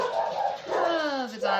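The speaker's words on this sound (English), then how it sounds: "the dogs heard someone outside." Indoor dogs bark and whine excitedly at someone outside, the frantic calls close and loud, their pitch sliding down over a brief burst.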